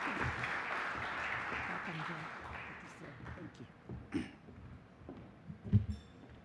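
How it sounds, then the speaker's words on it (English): Audience clapping at an insurance conference as a speaker walks to the stage, fading out after a few seconds into room noise with voices, scattered knocks and taps. "I think we can clap for him until he gets on stage."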